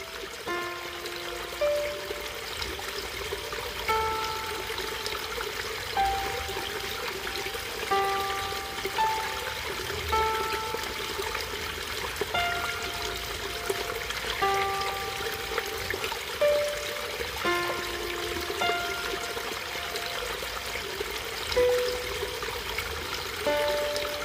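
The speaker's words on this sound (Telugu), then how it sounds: "భలే ఉంది చూడడానికి, అసలు ఫ్రోజన్ వాటర్ ఫాల్." Water trickling and dripping at the partly frozen Zapata Falls near Great Sand Dunes National Park, Colorado, a soft continuous flow with scattered bright drips and plinks, fairly close and alone.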